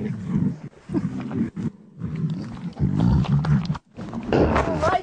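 Several lions roar loudly and at close range in long, deep, rumbling bursts, one after another, with brief pauses between them.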